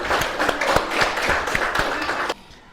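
A small audience claps after a teaching presentation in a classroom, with distinct individual claps in a loose rhythm before stopping abruptly near the end.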